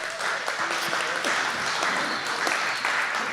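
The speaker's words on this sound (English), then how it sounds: "Let's give them a round of applause." A brief burst of audience applause, dense and steady throughout, with faint voices mixed in.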